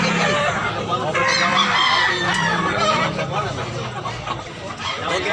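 Roosters crowing and hens clucking at a chicken market in Tabunok, Cebu, a dense, loud overlapping din of several birds that carries on throughout, with people talking underneath.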